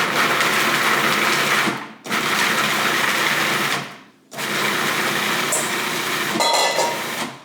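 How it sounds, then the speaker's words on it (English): A food processor pulses chickpeas in three loud whirring bursts of about two seconds each, separated by brief pauses, with the chopped chickpeas rattling inside the bowl during the last run. "we're going to put them in the food processor and we're going to pulse them"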